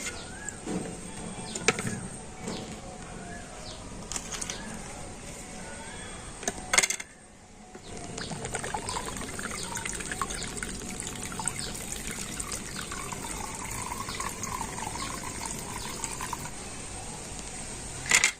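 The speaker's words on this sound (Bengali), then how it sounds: "দুটো ডাব থেকে ডাবের জলটা আমি নিয়ে নিয়েছি" Coconut water poured out of two green coconuts, a steady thin trickle splashing into a container, briefly pausing midway before resuming, close and fairly quiet, with faint birdsong in the background.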